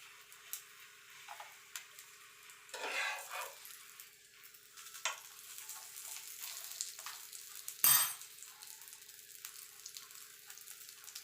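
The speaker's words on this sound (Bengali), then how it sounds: "তেল দিয়ে ভালো করে ভেজে নেব।" Aloo paratha frying in oil in a pan, a faint steady sizzle with soft ticking crackles and a couple of louder bursts, including a sharp clatter near the end, with no voices.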